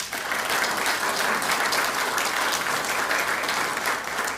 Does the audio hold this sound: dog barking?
no